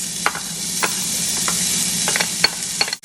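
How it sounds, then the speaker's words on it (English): Onions sizzling in a skillet for old-fashioned Southern dirty potatoes, a steady close frying hiss broken by scattered pops and scrapes of stirring, with no talking. "We'll go right back in the same skillet with our onions,"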